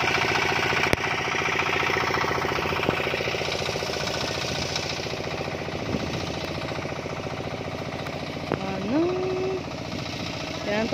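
A noisy motor-driven water pump runs steadily at a beach home, a continuous mechanical drone with knocking, rhythmic pulses under background voices and a brief rising tone near the end.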